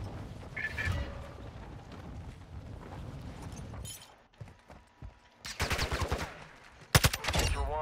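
Rapid bursts of gunfire in Call of Duty Warzone crack out in loud clusters near the end, after quieter game ambience with a player's voice.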